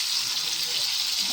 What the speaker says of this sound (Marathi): जे पिळून घेतलेत कारले ते आपण 5 मिनटं भाजून घेणार आहोत याच्यात